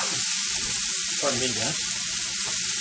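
Vegetables for a tofu stir fry sauté in a hot pan, giving a steady close sizzle that runs under a brief spoken remark.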